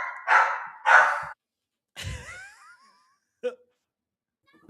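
A dog barks twice in quick succession, loud and close, followed by a softer noise and a couple of brief faint sounds.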